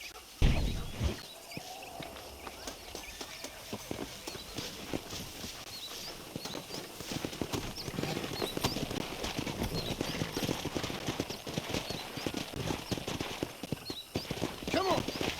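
Horses clip-clop at a trot through a Red Dead Redemption game scene, steady hoofbeats building in density and loudness across the stretch, with game ambience, a brief whinny and occasional voices around them.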